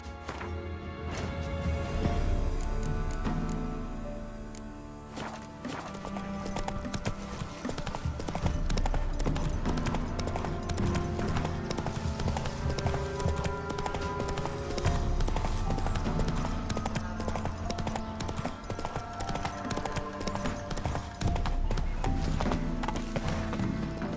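Roach, the horse in The Witcher 3, gallops with a steady, rapid clip-clop of hooves that runs throughout, mixed with dense in-game music and ambient game sound.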